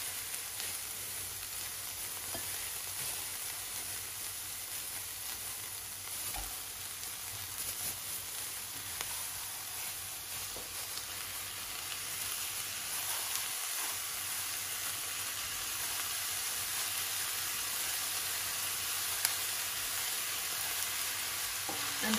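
Beef frying in a pot for Nigerian meat pies gives off a constant, broad sizzle and hiss, steady and moderately close with no voices.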